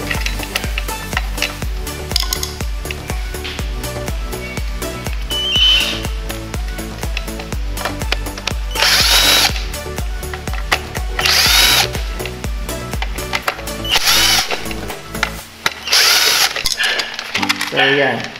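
A power tool spins out a screw on an automatic pump control unit, buzzing in repeated bursts close by, with someone talking intermittently over it.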